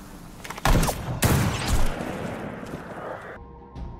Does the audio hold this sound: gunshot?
yes